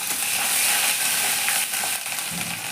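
Ginger paste dropped into hot oil already holding black cumin, a loud steady sizzle and frying hiss with scraping stir strokes, no voices.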